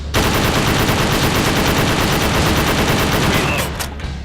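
Dense, rapid gunfire from the Wii light-gun shooter Reload rattles on without pause for about four seconds, loud and close, then tails off at the end.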